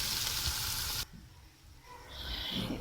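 Garlic, ginger and green chili paste hits browned onions in a hot pan with a loud sizzle, the frying noise dropping sharply after a second and then hissing on more softly.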